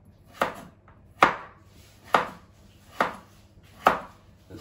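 A knife cuts through the tough skin of a seeded butternut squash in five sharp, evenly spaced chops on a board, each one close and crisp, with quiet gaps between.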